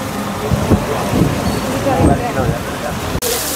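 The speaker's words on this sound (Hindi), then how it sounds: "हम बारिश से भीग रहे हैं अभी" Heavy rain pouring down during a battery rickshaw ride in Varanasi, a loud dense steady wash with faint rumbling underneath, alone and close around the listener.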